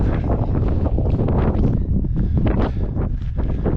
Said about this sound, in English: On the ridge, getting blasted by wind.